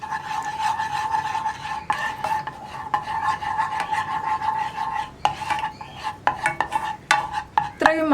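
Stirring melting sugar for caramel in a pan over low flame, a steady close scraping and swishing of the spoon against the pan bottom with light clinks, continuous for several seconds and growing busier toward the end.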